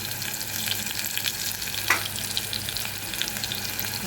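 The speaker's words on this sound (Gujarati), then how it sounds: "તેલ તો આપણું સરસ ગરમ થઈ ગયું છે. હવે આમાં ડુંગળી અને એક મરચું ઉમેરી દઈએ." Onion and a chili sizzle in hot oil in a home kitchen, a soft, steady frying crackle with one brief clink partway through, no voices.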